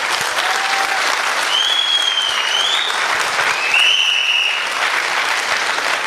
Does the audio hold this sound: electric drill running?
no